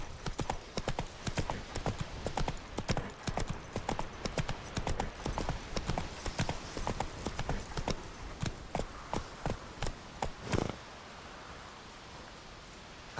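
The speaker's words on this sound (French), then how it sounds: "Au galop, Ablette" Hooves of a galloping horse in The Witcher 3, a fast, steady clip-clop rhythm up close for about ten seconds before the hoofbeats stop and only faint ambience remains.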